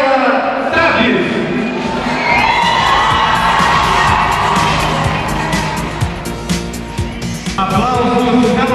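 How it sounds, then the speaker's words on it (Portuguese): Warm audience applause and cheering at a children's beauty pageant at a festival, loud continuous clapping mixed with shouts and whoops from the crowd, with voices throughout. "Aplausos calorosos do público paraense"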